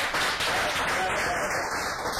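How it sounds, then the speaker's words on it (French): An audience at a panel discussion on Pan-Africanism and African renaissance applauds a speaker, a thick, even wash of many hands clapping throughout, moderately distant and sustained without pause. "Merci Fabrice Wafofoso, on va vous applaudir également"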